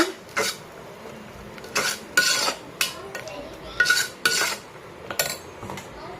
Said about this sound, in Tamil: அதை நம்ம இதில் ஊற்றிக்கலாம். நல்லா மிக்ஸ் பண்ணி விடுங்க ஒரு தடவை.